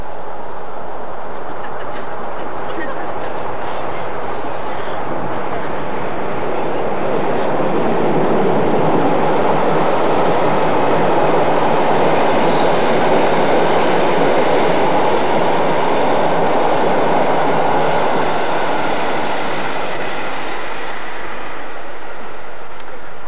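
A train rumbles past on a railway line in Falkenberg, Sweden, a loud, sustained roar that swells and holds for over twenty seconds with a faint rhythmic clatter, heard alone without speech.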